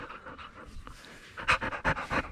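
A dog pants close to the microphone in quick rhythmic breaths, which grow louder and heavier toward the end of the short burst, with no talking over it.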